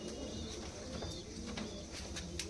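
A male and female pair of medium-small pigeons murmur with soft, low coos inside a loft, faint and steady over a dense background hum.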